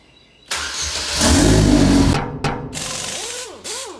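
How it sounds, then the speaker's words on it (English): Electric fuel pump running on a DF Goblin kit car, close up: a steady whirring buzz that swells louder partway through, breaks off briefly, then resumes with a rising and falling whine. "fuel pump."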